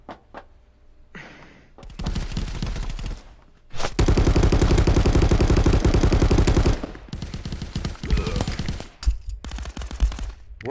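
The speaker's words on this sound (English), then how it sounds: "Bro, these dudes shoot crazy." Bursts of rapid automatic gunfire from the VR shooter game Contractors VR, loud and dense, with long sustained volleys broken by short gaps and scattered single shots.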